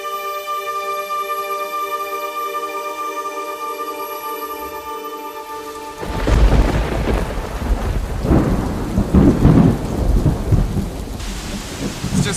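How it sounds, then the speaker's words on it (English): Heavy rain pours down with thunder rumbling close by, a steady roar of downpour that swells loudly after the first few seconds, sheltering under a rock outdoors. "It's just started pouring down with rain."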